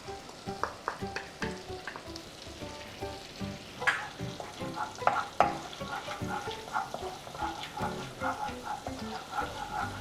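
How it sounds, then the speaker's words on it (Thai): Chopped garlic fries in melted butter in a pan, a soft crackling sizzle with scattered sharp pops and stirring scrapes, fairly quiet and without talk. "ผมจะใส่ตัว กระเทียมที่เราสับไว้ลงไปเลยนะครับ"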